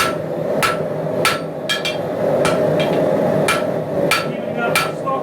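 A hammer forges a taper on a 5160 steel round bar, about nine sharp ringing blows in an uneven rhythm, loud and close over a constant roaring forge.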